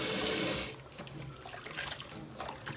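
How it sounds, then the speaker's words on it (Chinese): Tap water runs loudly over squid tentacles being rinsed in a kitchen sink, then cuts to quieter splashing and handling of the wet squid. "这鱿鱼须都是处理好了的，我们只是稍微再清洗一下就可以了"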